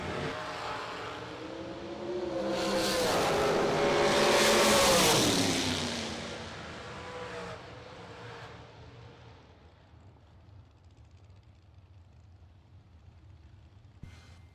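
A race car at the Ultimate 64 drag racing event rises to a loud roaring pass that peaks mid-clip, its engine note sweeping and then fading into distant rumble, leaving a low background hum.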